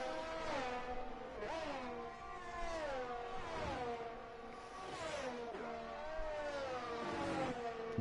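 Ferrari and Williams race cars in a racing video game league race at a Saudi Arabia circuit, their engines whining loud and close, pitch climbing and dropping sharply with repeated gear shifts and no talk.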